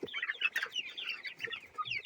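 A rooster clucks in a run of soft, rapid, chattering notes, close by and fairly quiet.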